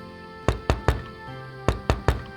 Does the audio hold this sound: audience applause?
no